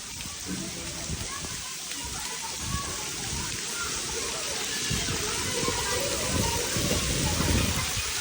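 Heavy rain falls on a Punjab village under dark clouds, a dense steady hiss and splashing patter with children playing and voices talking faintly in the background.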